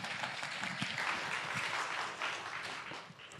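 Steady applause from a church audience at a Cantonese thanksgiving celebration, a dense continuous clatter of many hands filling the room at moderate volume, with faint voices beneath it.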